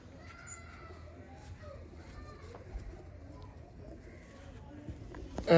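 Rare old pigeons in a loft give soft repeated cooing calls, close and fairly quiet, over low background murmur, with a sharper knock near the end.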